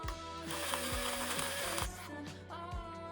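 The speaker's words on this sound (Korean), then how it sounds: "이렇게 아래 컨테이너를 한 칸씩 돌려 조절하면 굵기가 다르게 토출돼요." The bottom container of a salt grinder with five coarseness settings turns one step at a time, giving a few distinct, spaced ratchet clicks over a tonal musical background.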